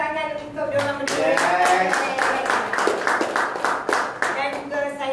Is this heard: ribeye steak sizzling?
no